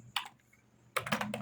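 An email address typed on a computer keyboard: two quick bursts of close keystrokes separated by a brief pause, fairly quiet with no talking.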